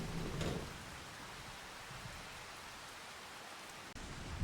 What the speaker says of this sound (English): Seems like a rainy morning here.